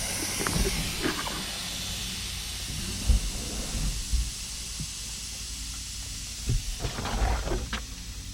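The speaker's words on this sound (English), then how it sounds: "Apparently, we have an air leak." Compressed air hisses steadily from an unconnected hose of an onboard air tank, a broad continuous leak punctuated by a few close knocks and clunks, with no talking.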